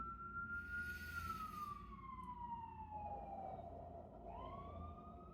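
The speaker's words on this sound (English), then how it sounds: "with those sirens going off." A siren wails in the distance, its pitch slowly falling and then rising again over a low rumble of traffic.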